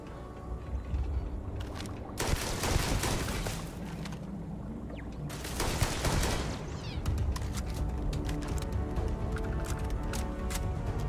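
Turrets firing in the space game Starfield, sustained rapid automatic fire at moderate distance with a couple of heavier blasts and dense clattering bursts throughout, no talk.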